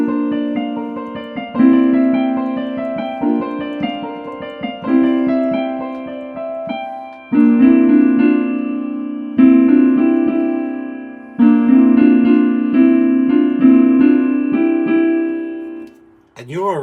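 A piano plays a song from The Little Mermaid, a slow melody with sustained chords in several phrases, clear and alone with no talking.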